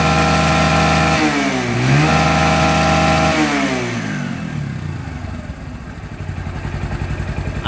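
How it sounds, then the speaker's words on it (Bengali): An old Dis 135 motorcycle engine runs after repair. It revs up and down loudly a couple of times, then settles into a steady, smooth idle. "তো ইঞ্জিনের সাউন্ড শুনুন,"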